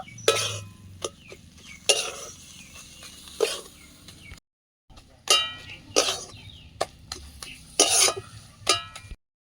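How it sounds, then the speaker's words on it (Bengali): A spoon scrapes and clinks in a pan while soybean curry with freshly chopped coriander is stirred: a series of sharp metallic taps and scrapes close by over a faint low background, with a short pause midway. "নামানোর আগে ধনে পাতা কুচিয়ে দিয়ে একটু নাড়িয়ে নেব"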